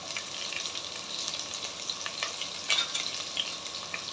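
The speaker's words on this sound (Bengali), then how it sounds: "তখন এর মধ্যে দেব আদা আর রসুন কুচানো, চপ জিঞ্জার অ্যান্ড গার্লিক, দেব লঙ্কা কুচানো" Chopped ginger, garlic and chili hit hot oil for chicken fried rice, a bright, continuous sizzle with sharper crackles and pops, and a few stirring scrapes close by.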